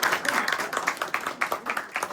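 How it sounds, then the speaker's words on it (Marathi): Clapping at a birthday gathering, a quick run of hand claps close by for about two seconds. "टाळ्या."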